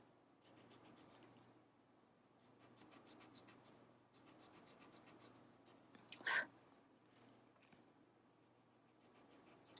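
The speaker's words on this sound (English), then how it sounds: "really work that chalk into the paper." Chalk worked firmly into the paper of a Zentangle tile, giving faint, scratchy rubbing strokes in short rhythmic bursts, with one brief sharper squeak partway through and no talking.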